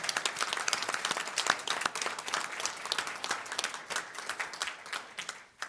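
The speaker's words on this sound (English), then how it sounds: "I would like to give a rounding applause for these folks coming down" A room full of people at an informational meeting applauds steadily, dense clapping that holds for several seconds before tapering off.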